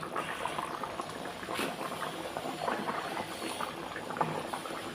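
Egg and potato curry with new potatoes and whole eggs bubbles steadily in a pan, a continuous close simmering hiss with soft popping, no voices.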